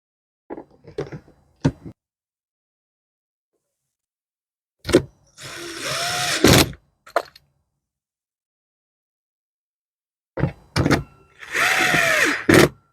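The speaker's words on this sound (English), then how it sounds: "Let's get the top back on" Top cover being refitted on a Pulsar 9500 watt dual fuel inverter generator: a few scattered clicks and knocks, then two bursts of a whirring power-tool drive with rising pitch, separated by silence.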